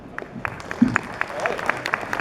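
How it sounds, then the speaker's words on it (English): At a car restoration show, a small audience claps sparsely to welcome a guest, with scattered hand claps at irregular intervals while a voice talks over them. "Massive clap, guys"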